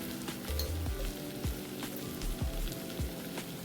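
Ginger, garlic and masala powder fry in hot oil in a pan for prawn fry, with a soft continuous sizzle and crackle under low background hum, quiet and close.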